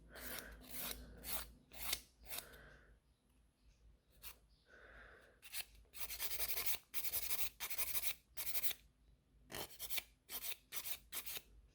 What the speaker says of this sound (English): So I'm just filing as much as I can to thin out the free edge.